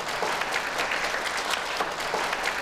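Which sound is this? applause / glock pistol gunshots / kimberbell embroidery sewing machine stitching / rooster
applause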